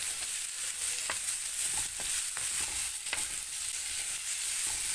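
Indian snow peas cooking in a pan, a steady close sizzle with occasional soft stirring scrapes and no talking.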